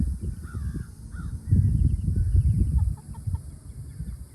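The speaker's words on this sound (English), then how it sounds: "Sounds like we have two hens growling at each other over there" Hens make low, rough growling grumbles close by, with a few higher clucks and squawks breaking through near the start and end.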